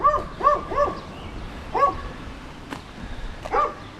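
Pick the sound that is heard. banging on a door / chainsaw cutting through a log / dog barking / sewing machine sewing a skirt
dog barking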